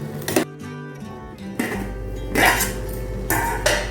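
A spoon stirs gooseberries cooking in a pot for amla candy, making a few loud metallic scrapes and knocks against the pan, separated by quieter stretches with a low bubbling hum underneath.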